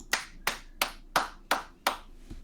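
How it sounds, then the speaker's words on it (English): A single person clapping alone, six sharp, evenly spaced claps about a third of a second apart, close and fairly quiet with no talk. "I am the only one clapping."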